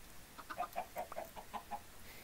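Chickens cluck in the blocky survival game Minecraft, a run of short soft clucks spaced across a couple of seconds, faint and alone with no talking.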